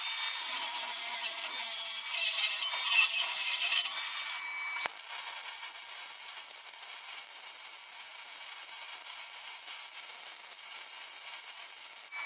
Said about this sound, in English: I'll give it a little bit of a wire brush just so I can get good starts.